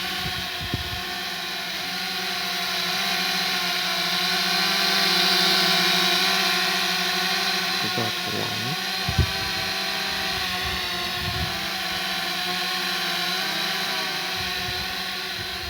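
Remote-controlled DHD D5 drone hovering in wind, its small motors giving a steady high-pitched whine with layered tonal hum, continuous and fairly close, with a few brief bumps and wind buffets.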